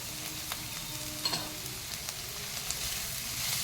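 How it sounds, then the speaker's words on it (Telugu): Soya granules and sprouted moong beans frying in a pan give a steady, moderately quiet sizzle, with a few light clinks and stirring scrapes scattered through it. "నేను దీనికి సోయా గ్రాన్యూల్స్ యాడ్ చేస్తున్నాను, అలాగే మొలక పెసలు కూడా వేసుకుంటున్నాను"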